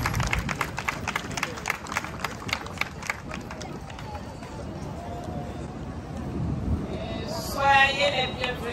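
Audience clapping at the opening of a national martial arts festival, dense rapid applause early on that thins into crowd noise and chatter, with a brief louder burst near the end.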